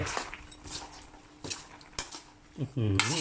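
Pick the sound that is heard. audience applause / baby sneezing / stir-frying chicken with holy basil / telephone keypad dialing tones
stir-frying chicken with holy basil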